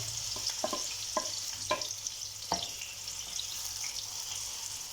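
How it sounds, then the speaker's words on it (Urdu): Four finely chopped onions frying in half a cup of ghee for beef keema karahi, a steady close sizzle with several light scraping stir clicks over the first few seconds, no talk. "سب سے پہلے ہاف کپ گھی میں 4 باریک کٹے ہوئے پیاز ایڈ کر لیں"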